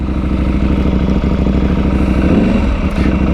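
A KTM 790 Adventure R motorcycle engine runs steadily and close by, a constant mid-pitched throb with a slight rise and clatter near the end, with no talking.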